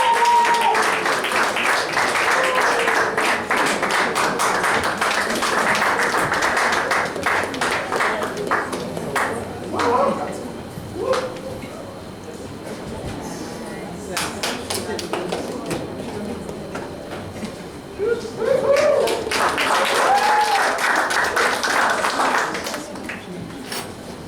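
Audience clapping and cheering for white coat recipients at a university White Coat Ceremony in Dominica, steady broadband applause across the clip with swells near the start and end, a presenter's voice announcing names heard over it.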